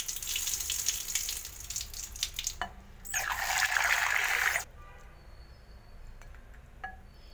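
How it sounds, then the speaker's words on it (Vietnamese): Sea grapes seaweed is rinsed in water, giving close splashing and sloshing, then a louder rush of running water for about a second and a half before it fades to quiet dripping, with no talking. "Bây giờ mình bắt đầu mình rửa nè."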